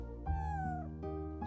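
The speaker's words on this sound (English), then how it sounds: "Hello, kitty cat." A cat meows in the Chrono Cross video game, with several short tonal calls: a long falling meow, then briefer ones, heard clearly over steady background game music.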